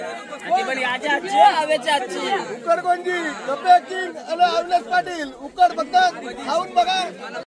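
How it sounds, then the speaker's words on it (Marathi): A crowd gathered at a koliwada Holi festival to eat ukad fills the air with lively close chatter, overlapping voices and bursts of babble throughout. "उकड खायला गर्दी पडली, उकड."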